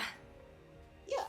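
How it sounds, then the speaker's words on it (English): A person sneezes once, a sharp, loud burst near the microphone at the end of a quiet moment, preceded by a brief breathy sound. "I had to sneeze"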